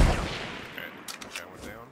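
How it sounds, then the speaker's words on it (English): Gunfire in the video game Fortnite comes as a quick cluster of faint, distant shots, a few sharp cracks close together in a short burst over low background noise. "Oh, look, they're shooting, they're shooting."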